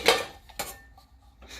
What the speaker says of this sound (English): So I'm gonna grab a tiny pot